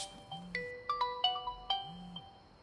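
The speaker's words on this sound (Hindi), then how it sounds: "किसका फोन है बे?" A phone ringtone plays a bright, bouncy electronic melody of quick repeated notes, fairly soft and alone, at night in a home.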